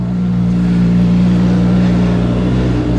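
Mercedes-AMG Project One concept car engine running at the Goodwood hill climb, a loud, steady, close droning roar held for a few seconds without pause.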